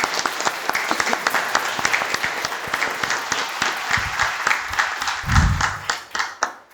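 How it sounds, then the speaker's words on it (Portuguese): Audience applauding at a formal municipal honorary-citizen ceremony, brisk individual claps clearly audible and close, continuing steadily before thinning out at the end, with a brief low murmur of voices. "Mais uma salva de palmas para o tio Bula."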